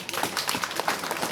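An audience applauds at a donation ceremony at the Kambissi seniors' home in Brazzaville, a steady patter of many hands clapping together, moderately close and sustained throughout.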